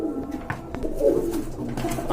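A male pigeon coos at a female among a pen of pigeons for sale, giving a few low, throaty rolling calls close by with no talk over them.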